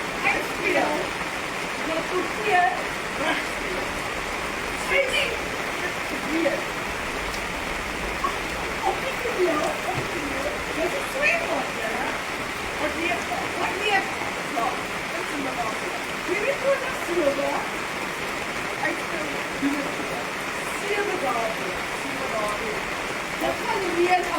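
Rain falls steadily outdoors, a dense, continuous hiss with scattered patters and drips that stays even throughout.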